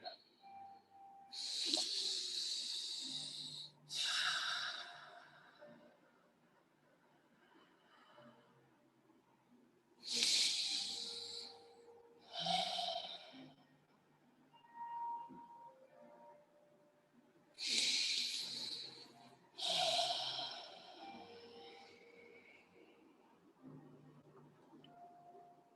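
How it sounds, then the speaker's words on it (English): Slow, deep breaths drawn and released during a quiet yin yoga session, close and airy, coming in paired inhale-exhale rushes roughly every eight seconds with near-silence between. "And a few more rounds of breath here."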